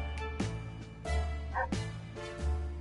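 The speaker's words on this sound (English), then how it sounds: "Yep, it's the dog." A dog barks in repeated short, sharp bursts, four or five barks spaced across a few seconds, close by and loud.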